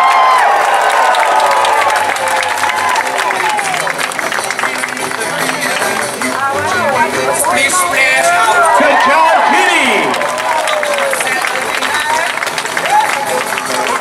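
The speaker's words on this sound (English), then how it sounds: "Come on, make some noise for her, folks." Crowd at a sea lion show at the Florida State Fair applauding and cheering loudly and steadily throughout, with shouts and whoops rising in the middle, while an announcer's amplified voice talks over it.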